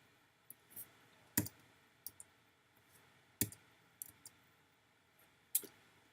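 A computer mouse clicks while editing in Photoshop, several sharp, close, isolated clicks spaced irregularly, some single and some in quick pairs, in a quiet room.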